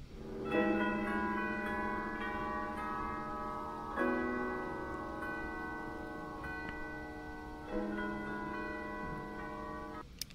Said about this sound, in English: These are called chimes, and chimes are also in the percussion section, and they're just large bars hanging down, and they do also sound like bells.